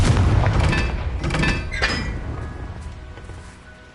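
Confringo blasting spell explosion in the video game Hogwarts Legacy, a loud boom followed by crackling, clinking debris bursts that fade out over several seconds, with no talking.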